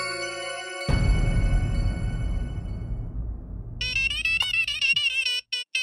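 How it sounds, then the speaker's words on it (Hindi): A mobile phone ringtone plays loudly, steady melodic tones for several seconds, then a brighter chiming ring starts up near the end. "जेठालाल का फोन।"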